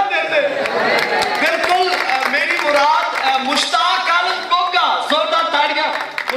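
An audience at a 2018 Punjabi folk music performance claps in a dense, sustained burst of applause mixed with crowd voices and shouts.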